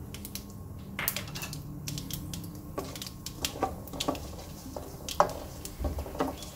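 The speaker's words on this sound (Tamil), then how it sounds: "அரை ஸ்பூன் கடுகு சேர்த்துறேன் கடுகு வெடிக்குது" Half a spoon of mustard seeds crackle and pop in hot oil for tempering curry leaf rice, giving scattered sharp snaps and sputters over a steady low sizzle, close and fairly quiet with no talking.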